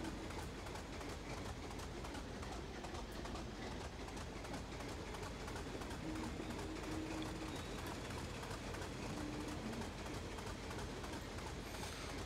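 Class 25 diesel locomotive moving past signals on a heritage line, a continuous rumbling engine drone with rail noise, heard steadily and fairly close.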